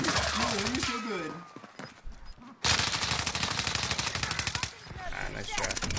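Rapid automatic gunfire in Call of Duty, dense rattling bursts that stop briefly and then resume, with players talking over the shooting.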